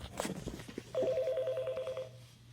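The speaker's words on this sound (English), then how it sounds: "So I'm going to go ahead and place a call." A conference speakerphone places a test call, giving a quick burst of tapping followed by a steady, faintly warbling dial tone that holds for about a second before cutting off in a quiet room.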